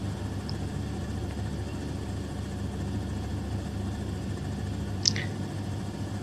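Robinson R44 helicopter in flight at about 90 knots, a steady low rotor and engine drone filling the cabin without a break, with one brief high click near the end.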